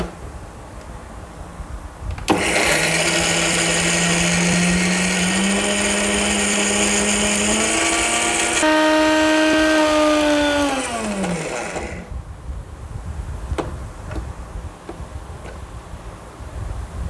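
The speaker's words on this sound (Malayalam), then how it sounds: "ഈ തേങ്ങയും ജീരകവും പച്ചമുളകും കൂടെ നമ്മൾക്കൊന്ന് അരച്ചെടുക്കാം." Electric mixer grinding coconut, cumin and green chili for aviyal, a loud motor whine that starts abruptly, shifts pitch midway, then winds down and stops, leaving quiet room noise.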